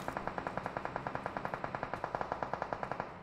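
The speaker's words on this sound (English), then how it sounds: "And why are you guys shooting?" Automatic gunfire in a video game zombie mode, a rapid, even stream of about twenty shots that rings out steadily and fairly faint, with no talk over it.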